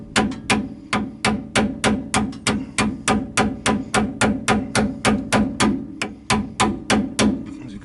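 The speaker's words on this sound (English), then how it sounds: "what I'm using is just a little chisel and a hammer" A hammer drives a small chisel to loosen a snap ring on a lifted Ford Bronco's brake line, giving about two dozen sharp metallic taps in a steady, even rhythm, close and loud with nothing else heard.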